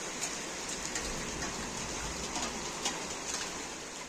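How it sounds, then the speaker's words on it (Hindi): Rain falls steadily outdoors in a soft, even hiss of drops hitting surfaces, faint and continuous with slight pattering peaks. "एकदम से ऐसे बारिश आने लगी यहाँ पे।"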